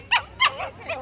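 A dog, either a Doberman or a Yorkie-Poo, gives three or four short, close yips and barks in quick succession, the first two sharp and high, the later ones softer and more whining.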